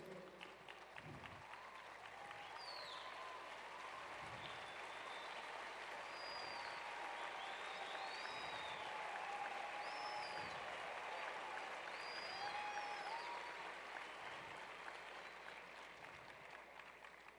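Sustained applause from a church congregation honouring Colombian pastors at a gathering, a dense steady wash of clapping lasting throughout, with faint crowd voices mixed in.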